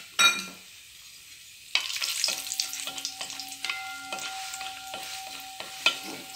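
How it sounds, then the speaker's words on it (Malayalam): Cashew nuts fry in melted ghee in a pan while payasam is being made. A steady sizzle starts after a quiet pause, and light clicks of stirring and scraping break into it now and then. "അണ്ടിപ്പരിപ്പും മുന്തിരിയും പിന്നെ തേങ്ങാ കൊത്തും കൂടി ഒന്ന് വറുത്ത് മാറ്റി വെക്കാം"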